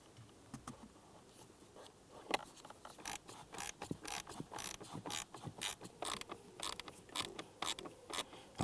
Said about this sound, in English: we'll go ahead and remove those 2 T20 Torx bits